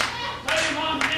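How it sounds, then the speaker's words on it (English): Wrestling fans at the PWA Academy clap along together in a small venue, a steady rhythmic patter of hands that swells partway through, with a commentator's voice running underneath. "Fans here at the PWA Academy coming together, clapping their hands"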